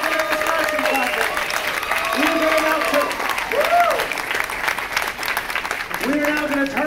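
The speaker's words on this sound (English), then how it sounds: "I want to hear a big round of applause for all of the contestants" An audience at a cosplay contest applauds, a dense wash of clapping and cheering, while a voice speaks over the crowd through amplification.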